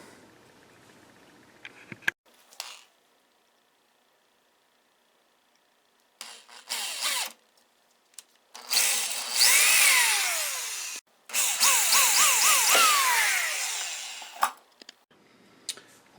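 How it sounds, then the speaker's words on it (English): A power drill whirs in several bursts separated by pauses, its pitch rising and falling as a hole saw grinds through plastic, loud and close. "I'm going to reverse the drill and let the hole saw just melt through it"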